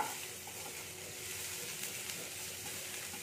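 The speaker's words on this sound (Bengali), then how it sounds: "এবার পেঁয়াজটা আমি হালকা নেড়ে নিচ্ছি।" Chopped onion being stirred in hot oil in a kadai, a dense continuous sizzle and hiss close up, steady throughout with faint stirring scrapes and no voices.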